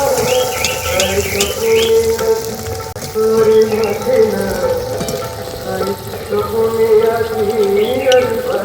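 Eggplant fritters (beguni) fry in hot oil with a steady, loud sizzle and occasional bubbling pops, continuing close up throughout.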